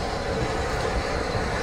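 A steam locomotive train on the West Somerset Railway heritage line gives a brief, dense rumble of rolling carriages at moderate volume, with no voices.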